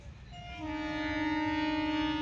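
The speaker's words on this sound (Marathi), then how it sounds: "आता हॉर्न वाजतंय" A train horn sounds at Bhiwandi railway station, a steady sustained blast that rises in and holds loud and clear over low station rumble, with no talking.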